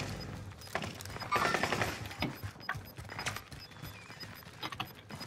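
Gunfire crackles through a battle royale video game match, with bursts of shots and impacts scattered across the whole stretch at moderate loudness, no talking over it.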